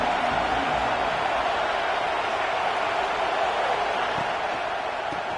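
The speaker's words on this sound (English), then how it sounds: "This crowd bringing an ear-splitting welcome to their visitors." A stadium crowd at an NCAA football game roars in a steady, dense wall of cheering and noise that holds loud and unbroken throughout.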